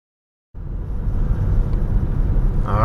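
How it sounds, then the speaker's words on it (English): A car drives along US 12 in Utah on a December trip, heard from inside as a steady low road rumble that starts abruptly and holds constant, with no talk. "Driving up US 12 now towards Capitol Reef"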